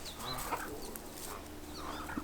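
A backyard chicken clucks among a bed of Chinese celery in a garden, soft intermittent clucks over a steady outdoor background hiss with no talking.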